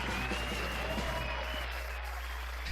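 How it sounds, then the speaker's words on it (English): Steady applause from a crowd watching an ETF2L Season 15 Premiership Team Fortress 2 match between RLM and LMS on Granary, a continuous close wash of clapping with a low hum beneath. "you want to keep clapping?"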